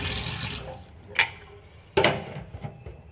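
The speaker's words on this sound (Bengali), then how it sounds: "এখন আমি এটাকে জলে দিয়ে দিচ্ছি" Fish and a few prawns being placed into water in a kitchen, with soft running water and two sharp splashing clunks as they go in, fairly quiet and close.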